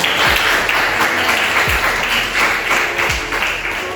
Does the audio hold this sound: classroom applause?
yes